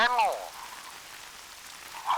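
Steady, soft patter of rain falling on a surface, heard close and even throughout, with a voice briefly speaking at the start and end.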